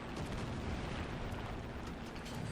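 Aircraft bombing during a War Thunder tank battle: continuous, dense rumbling blasts and booming detonations fill the whole stretch at steady loudness, with no talk over them.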